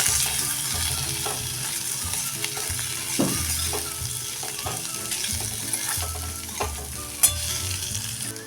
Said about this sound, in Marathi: मीठ टाका आणखी आपण ह्या परतून घेऊया